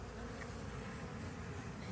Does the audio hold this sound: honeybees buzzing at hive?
yes